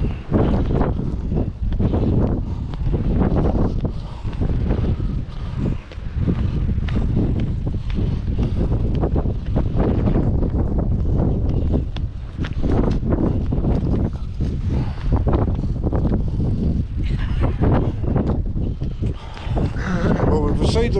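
Strong wind buffets the microphone at Lybster Harbour in Caithness, roaring and gusting continuously for the whole stretch, with footsteps and muffled talk underneath.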